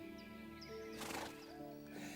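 A well-bred horse whinnies in a loud, shaky neigh that swells for a moment over a background of music, with no voices in the moment.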